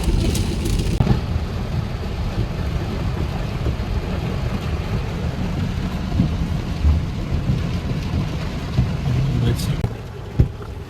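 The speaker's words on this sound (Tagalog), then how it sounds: "grabe ang ulan" Heavy rain pours down steadily for the whole stretch, a dense broadband wash with low rumbling, as in a downpour that keeps on until night, with a brief sharper knock near the end.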